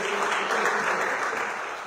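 A church congregation claps together in loud, dense applause that stays steady and close before easing slightly at the end.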